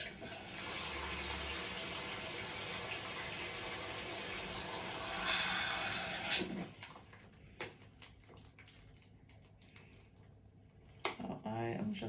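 Water runs steadily from a tap for several seconds, then cuts off, followed by scattered clinks and handling noises.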